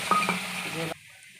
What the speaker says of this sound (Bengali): যেই বাটিটা সুজি নিয়েছিলাম সেই বাটিটা আমি মাপ করে জল দিলাম